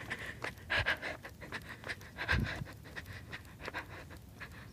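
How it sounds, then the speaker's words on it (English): A runner on a morning run breathes heavily in rapid, rhythmic pants, shaky and close to the microphone, with no talking. "I feel so weird running and recording at the same time because my breath is all shaky."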